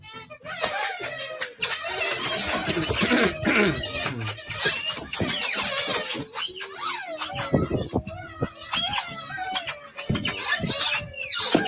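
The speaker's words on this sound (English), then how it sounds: "I hate chickens now." Chickens cluck and crow with busy, overlapping squawks and calls, loud and close, while people talk over them.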